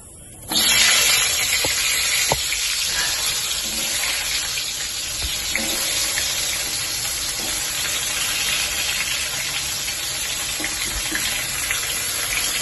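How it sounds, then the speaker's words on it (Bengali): Potatoes dropped into hot mustard oil in a wok break into a loud, broad, continuous sizzle and hiss that holds steady, with a few faint clinks scattered through it. "এই আলুগুলোকে আমি খুব ভালো করে ভেজে নেব।"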